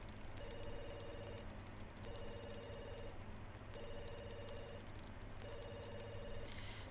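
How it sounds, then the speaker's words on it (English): Telephone ringing in the video game The Sims 2, four evenly spaced electronic ring bursts of about a second each, faint, set over a steady background of game music. "I'd rather not answer the phone, but it's kind of annoying, so I guess I'll answer the phone."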